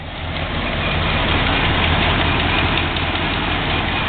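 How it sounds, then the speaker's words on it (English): A 1971 Chrysler 300's engine idling steadily, a dense even rumble close by, running alone without voices for a few seconds. "Motor's nice and quiet."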